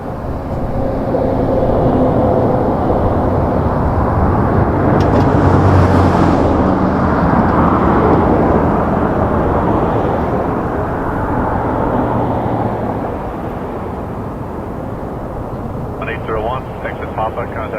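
Airliner landing on runway 23 at Toronto Pearson airport in the evening, a broad steady jet roar that swells and slowly fades over many seconds, with tower radio talk in the background.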